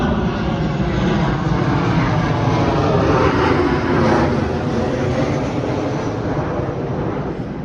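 A fixed-wing aircraft passes overhead beside a fishing venue at Calder, a steady broadband roar that swells toward the middle and slowly eases, loud and continuous with no voices over it.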